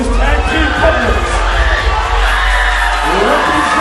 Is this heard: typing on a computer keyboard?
no